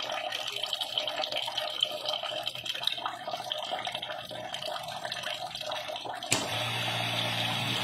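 Water trickles and splashes close by from a tank setup as a level-switch system drains, then an automatic water pump kicks on abruptly near the end, adding a steady low motor hum under the flow.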